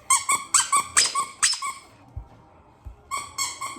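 An Among Us dog toy squeaked repeatedly, six rapid high squeals in a rhythmic run, a pause, then more squeaks, loud and close with no talking.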